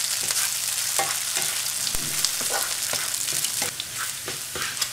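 Unhulled buckwheat roasts with onions in a pan, a continuous close sizzle marked by repeated scraping strokes and light knocks of a spoon stirring at a fairly even rhythm.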